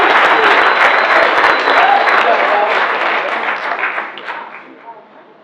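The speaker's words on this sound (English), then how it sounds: "One more round of applause." At a breakfast networking meeting, the room breaks into a loud round of applause with many hands clapping and voices mixed in, gradually thinning and fading out.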